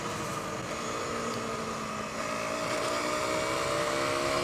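A 2017 UM DSR EX 125 EFI enduro motorcycle's small single-cylinder engine hums steadily, its pitch slowly rising as it builds revs, close and continuous with no talk.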